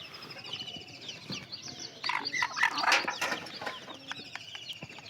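Laying hens clucking on a farm, soft and fairly distant, with a cluster of clucks and calls in the middle and quieter fowl sounds around it.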